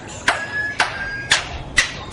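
A lyrebird mimics a hammer with four sharp, evenly spaced knocks about half a second apart, each a crisp close strike over a faint background hiss.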